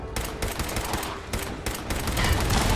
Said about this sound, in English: I've got a pipe pistol with 300 bullets.